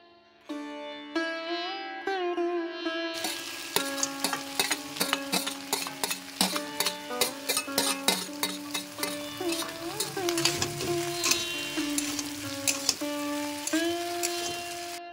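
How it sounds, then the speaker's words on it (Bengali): Spices, radhuni, ginger and vegetables crackle and spit as they fry in a pan, with dense rapid popping and repeated stirring scrapes over a bed of background music throughout. "এবার সবটা ভালো করে কষানোর পর ভাজা সবজিগুলো দিয়ে দেব"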